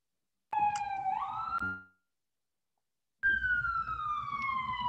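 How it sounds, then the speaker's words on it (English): A wailing siren outside an apartment rises and falls in two bursts separated by a silent gap, clear and fairly loud. "there's a siren going on outside my apartment"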